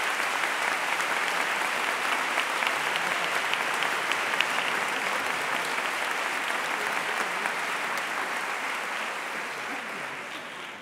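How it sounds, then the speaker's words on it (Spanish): Sustained applause from a large audience seated in an auditorium at a music and dance performance, a dense, even wash of clapping that continues for about ten seconds before starting to fade. "pido un gran aplauso para todas las madres que hoy se sientan en el patio de butacas"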